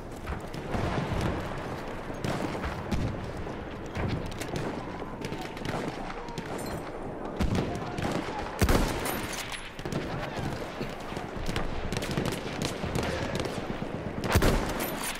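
Rapid gunfire from a first-person shooter video game, with a sharp no-scope headshot among dense bursts of shots and clattering game effects, heard alongside talking players.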